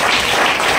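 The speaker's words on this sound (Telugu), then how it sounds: "చప్పట్లు కూడా" An audience at a church fasting festival service gives a short burst of dense applause, many hands clapping together, loud and close.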